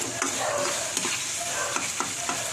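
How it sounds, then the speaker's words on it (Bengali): Kheer being stirred in a pan over a medium gas flame, with a continuous soft bubbling sizzle and faint rhythmic scraping strokes at close range, and no voices. "এটাকে নাড়তে থাকবো।"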